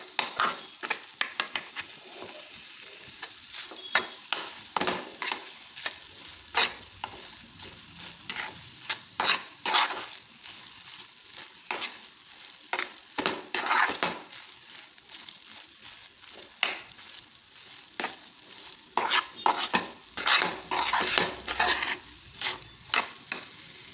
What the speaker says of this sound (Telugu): ఇది కలుపుకుంటూనే ఉండాలి, కంటిన్యూస్గా కలుపుకుంటూనే ఉండాలి